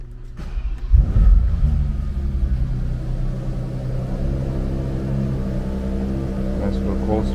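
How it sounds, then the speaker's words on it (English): A 2020 Bentley Continental GT with a W12 engine cold-starts close by: a quick crank, then a loud rumbling flare that settles into a steady, deep idle. "I'm gonna give the car a little start."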